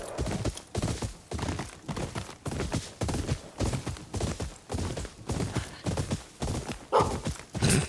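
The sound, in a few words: horse hooves and neighing in video game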